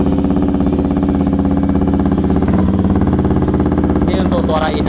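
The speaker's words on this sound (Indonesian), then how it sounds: "Suara dari knalpot Leo fins made in China dengan pipa yang di custom" A Yamaha XSR motorcycle with a custom Chinese-made Leo Fins exhaust whose pipe points upward, running loud and close with a steady throbbing beat, a rough mechanical clatter over the pulse, and a brief higher whine near the end.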